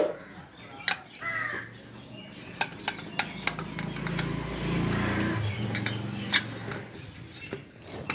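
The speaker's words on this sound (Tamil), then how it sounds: "இந்த மாதிரி காலையில் மட்டும்தான் குருவி சவுண்டுலாம் நம்ம கேட்க முடியும்" Crows caw repeatedly over a village morning, mixed with other birds, while sharp clinks of dishes and utensils ring out close by and a low hum swells in the middle.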